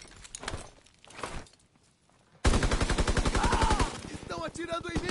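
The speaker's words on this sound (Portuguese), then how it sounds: "Estão atirando em mim!" Gunfire in a PS4 shooter game: scattered shots and quiet stretches give way to a loud rapid automatic burst of close, evenly spaced shots, with more bursts continuing to the end.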